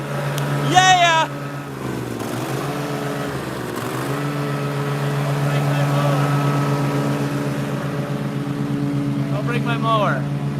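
A riding lawn mower engine runs steadily after starting, a loud sustained drone that holds for the whole stretch while people cheer and talk over it.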